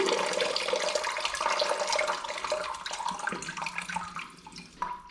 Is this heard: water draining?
yes